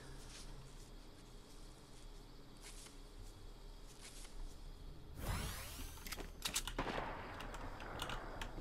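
Gunfire in a Fortnite Battle Royale match, faint rapid bursts of shots cracking out in quick clusters, quiet and distant beneath the game's ambient noise.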